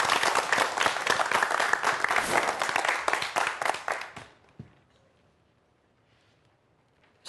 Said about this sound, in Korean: 강연 박수로 청해 듣겠습니다.